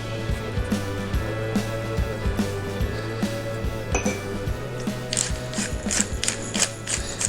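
Pepper ground from a ratcheting grinder over seared tuna, a steady run of close, rhythmic mechanical clicks and grinding with a few brighter clinks near the end.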